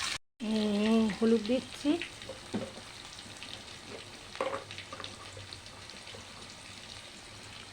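Sliced pointed gourd sizzles and fries in hot oil tempered with black cumin, a steady close crackling hiss that carries on throughout, with someone speaking briefly over it near the start.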